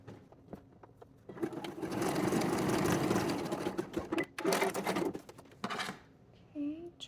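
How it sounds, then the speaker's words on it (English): A sewing machine runs a quick top stitch along the top edge of a lace teddy's lining, a steady close whirr for a few seconds amid short starts and stops, with a voice talking around it. "I'm going to top stitch that top edge in place real quick"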